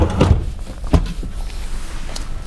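Drawers in a Carnival Dream cruise ship balcony cabin are opened and closed. A few quick wooden thunks and slides sound close by over steady room noise.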